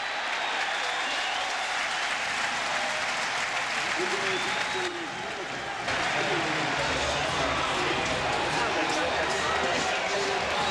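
A packed college football stadium roars with a huge crowd cheering and screaming, a dense continuous wall of sound that dips briefly midway before surging back.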